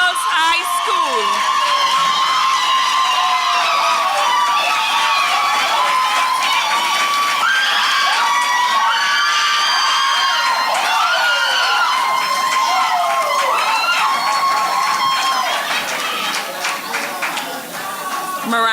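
A crowd cheers, whoops and claps loudly and continuously for a schoolgirl contestant at a public speaking competition, with shouts and excited voices piercing the dense applause throughout.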